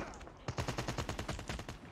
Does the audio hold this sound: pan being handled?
no